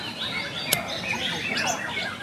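A white-rumped shama (murai batu) songbird chirps in quick, bright, varied notes, with one sharp click partway through, fairly near and with no talking.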